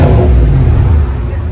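A 2020 GMC Sierra AT4 with a 6.2L V8 and aftermarket exhaust revs loudly up close, its deep rumble swelling and then easing slightly toward the end.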